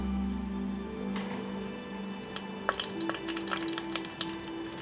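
Crackling pops and sputters of tempering spices frying in hot oil for green peas curry, close by and irregular, growing busier partway through over a steady low hum.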